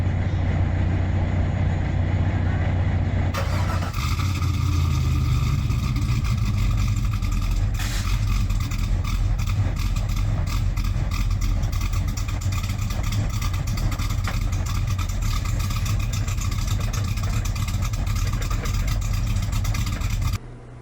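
Land Rover Defender 110 swapped to an LS3 V8 with an aggressive cam, running steadily as a loud, close, continuous rumble for the whole stretch, with a shift in tone a few seconds in.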